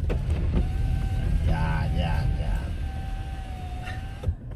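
Car power window opening while stuck in traffic, a steady whirring motor hum under a person's speech and engine rumble, ending in a soft thump as the glass stops.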